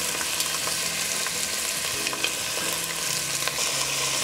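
Beef pieces brown in a hot pan for Indonesian Smoor Djawa stew, giving a steady, dense sizzle and crackle with no talk over it.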